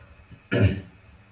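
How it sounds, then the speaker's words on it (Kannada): One short, sharp cough with a throat-clearing rasp from a man with a cold, close and fairly loud against a quiet room. "ಸ್ವಲ್ಪ ನೆಗಡಿ ಕೆಮ್ಮು ಆಗ್ಬಿಟ್ಟಿದ್ ಬಹಳ"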